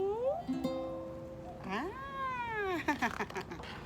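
A person's voice imitates a cat, drawing out a long wavering meow after a few spoken Thai words, close and fairly soft.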